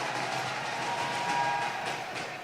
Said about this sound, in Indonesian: Tepuk tangan dulu dong buat HUT Stand Up Bayangkara yang ke-78